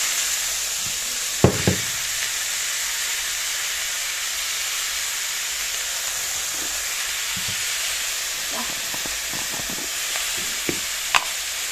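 Leafy greens (shak) sizzling in a pan while cooking, a steady close hiss of frying with occasional clinks and scrapes of stirring.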